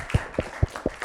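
Four quick, evenly spaced claps ring out close by, a brief round of applause for a scout who answered a quiz question correctly.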